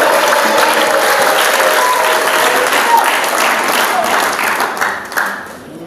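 A church congregation breaks into loud, sustained applause, dense clapping filling the space for several seconds before tapering off.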